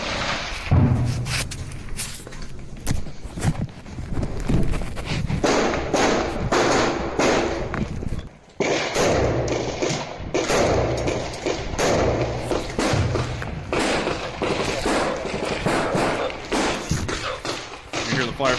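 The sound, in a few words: gunfire in an ongoing firefight in Ukraine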